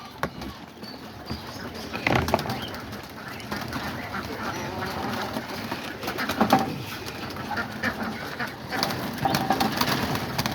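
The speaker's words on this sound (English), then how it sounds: "And here's the pigeons, you know, about to give them their meal of the day." A flock of pigeons gathers to be fed outdoors, with soft cooing running throughout and louder fluttering bursts of wings at a few moments, fairly close and steady over several seconds.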